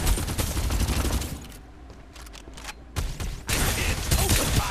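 Dense gunfire bursts from the Farlight 84 battle royale shooter, with rapid volleys loud and continuous at the start, thinning briefly in the middle, then returning as heavy sustained shooting.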